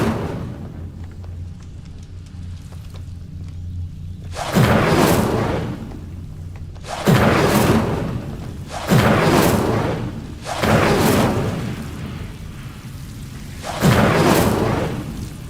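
Incendio fire spell cast in Hogwarts Legacy bursts out in five loud whooshing blasts, each a roaring flare that fades, spaced about two seconds apart after a quieter start.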